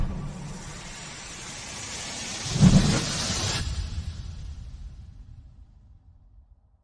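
A thunderstorm sound effect on a radio show: a low rumbling wash of rain-like noise swells into a sharp thunder crack near the middle, then rolls and fades slowly into silence.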